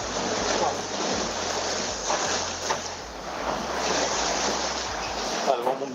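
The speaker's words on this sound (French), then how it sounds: "On commence à avoir une belle houle" Steady roar of ocean swell and rising wind buffeting the microphone aboard a racing yacht in the Vendée Globe, continuous and loud, with a low mechanical hum underneath that fades near the end.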